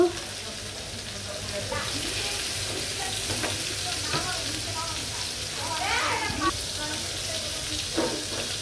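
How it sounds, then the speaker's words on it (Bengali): Chicken pieces fry in mustard oil in a wok, giving a steady, close, loud sizzle with a bright hiss throughout, light stirring scrapes, and a voice briefly audible beneath it. "আমি এখন মুরগিটা ভেজে নিব"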